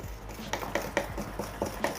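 A whisk scrapes and taps around a bowl, beating powdered sugar, milk and vanilla into a thick glaze for cheesecake-stuffed donuts. The clicks come close and steady, roughly four per second, with no talking.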